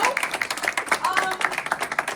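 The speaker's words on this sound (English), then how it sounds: "Right, we can clap it up." A small crowd at an outdoor community gathering in East Harlem clapping in quick, uneven bursts, with voices cheering and talking over the claps.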